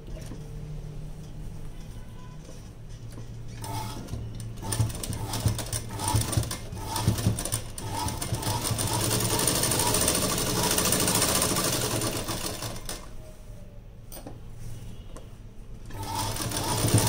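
A tailoring sewing machine runs a straight stitch while altering an old blouse, a fast, close rattling hum that continues for most of the stretch, steady with slight surges and brief pauses, with a faint voice speaking in the background.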